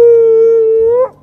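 A husky howls in one sustained, steady, loud note that ends abruptly after about a second, with no talking.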